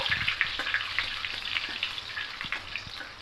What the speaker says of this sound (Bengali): আর একটা তেজপাতা দেব আর দুটো শুকনো লঙ্কা দেবো একটু হালকা ভেজে নেব